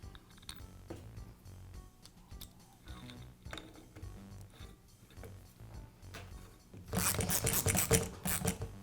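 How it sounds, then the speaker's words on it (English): Screws driven in to fasten the cap back onto a DeWALT finish nailer during a cylinder replacement: soft, close ratcheting clicks and small mechanical ticks, ending in a louder rattling burst. "Then I align the cap and secure it with the screws."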